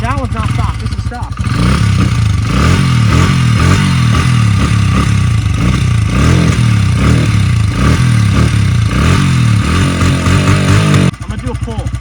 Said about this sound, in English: That's what a stock exhaust sounds like.